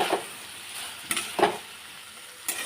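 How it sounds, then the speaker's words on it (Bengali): Tomato goes into a hot pan with ginger-cumin paste, setting off a steady sizzle with a few sharper bursts of spattering and stirring. "আদা জিরে বাটা দিয়ে দিলাম, এখন আমি টমেটোটা দিলাম।"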